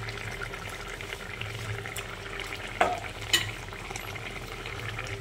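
Fish cooks in mustard oil in a pan with a steady low sizzle, broken by a couple of sharp utensil clinks and brief bursts of spattering.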